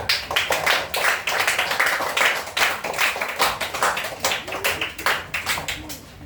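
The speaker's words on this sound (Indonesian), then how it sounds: "Tepuk tangan untuk kelompok 2." Classroom applause for a student group during a teacher-training lesson, with several bursts of hand clapping coming fairly close and irregular across the span, mixed with voices.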